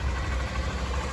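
A motorcycle engine idles steadily just after starting, a low, even rumble close by and constant through the brief moment with no speech.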